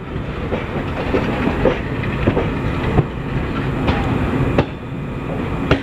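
Circar Express passenger train rolling on rails through a partly diesel section, heard from on board: a steady, loud rumble with rhythmic clickety-clack wheel beats repeating throughout.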